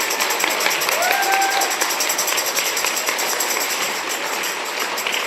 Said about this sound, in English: can we give one more round of applause to the Reproductive Justice Project?